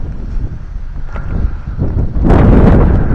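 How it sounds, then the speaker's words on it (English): Gusts of wind buffet the microphone outdoors on a roof with a low rumble, swelling into a heavier, louder blast near the end. "It's windy out here today."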